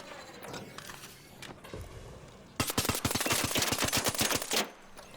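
Gunfire in the video game ARC Raiders: a few scattered shots, then a loud, close rapid-fire burst of about a dozen evenly spaced rounds lasting two seconds before it stops abruptly.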